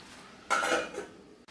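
Aviyal is stirred in a pot: a short burst of metal spoon clattering against the pot, then quiet, then a brief clink as a lid is set on at the end.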